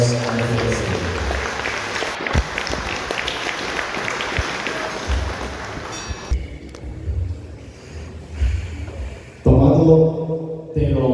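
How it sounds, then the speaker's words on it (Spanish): Audience applause at a council of elders gathering in Caxhuacan, Puebla, greeting the municipal president: a dense wash of clapping for about six seconds that then breaks off into scattered sounds, with a voice returning near the end. "Pido un fuerte aplauso para que recibamos a nuestro presidente."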